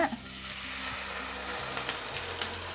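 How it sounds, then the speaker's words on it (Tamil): Ground onion and tomato paste hits hot oil in a pan, giving a crisp sizzle that starts sharply and settles into a steady, moderate frying hiss close by, with no talk over it. "இப்போ நம்ம அரைச்சி வச்ச இந்த வெங்காயம் தக்காளி அந்த பேஸ்ட்டை நான் சேர்த்துக்கிறேன்"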